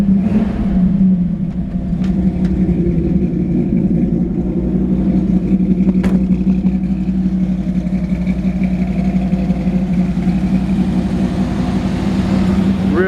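The V8 engine of a 1949 Ford F-1 pickup idles loudly with a deep, steady rumble, holding a constant throaty drone close by, with no audible revving.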